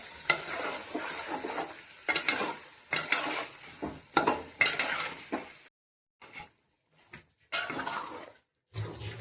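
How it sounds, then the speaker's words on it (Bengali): Chicken pieces being sautéed and stirred with spices in a pot for chicken pulao, with busy scraping and sizzling bursts in uneven strokes, broken by a few short quiet gaps and softer clinks. "এখন ভালো করে কষিয়ে নেব।"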